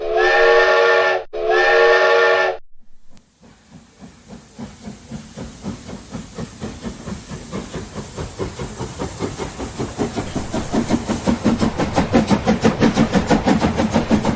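A steam whistle sounds in two long loud blasts, then a steam locomotive chuffs rhythmically, its hissing puffs growing faster and louder as it pulls away.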